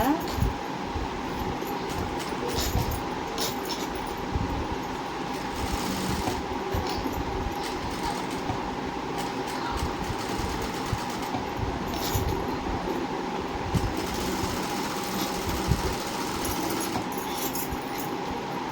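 A sewing machine runs steadily, stitching the lining of a blouse, with a continuous close mechanical whir and rattle that holds level throughout.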